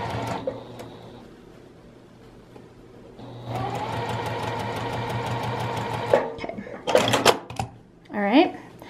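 A sewing machine stitches fabric for a knitting and crochet needle case, running in a steady, even burst of several seconds, followed by brief clicks and handling noises while someone talks over it.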